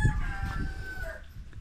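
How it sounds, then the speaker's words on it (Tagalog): Hens inside a coop give short clucks and a brief crowing-like call, close and fairly quiet, with no talking. "May manok dito sa loob."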